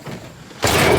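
An AMC AMX car door, one that does not shut all the way, is closed with a single dull thump, loud and close, following quiet outdoor background in the countryside.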